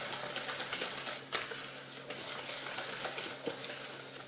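Yogurt cake batter is beaten in a bowl with a steady, close scraping and swishing, a continuous stirring texture broken by a few sharper knocks against the bowl.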